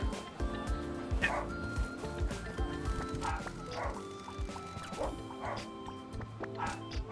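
A dog in the video game Promise Mascot Agency barks and yips repeatedly in short bursts over background game music and effects.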